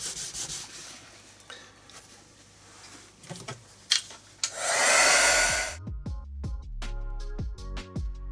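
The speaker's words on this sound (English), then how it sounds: "I may just encourage it a little bit with the heat gun" A heat gun blows over a mixed media art journal page to dry the paint, giving a loud, steady rushing whoosh for about a second before cutting off, preceded by quieter rubbing and handling noises.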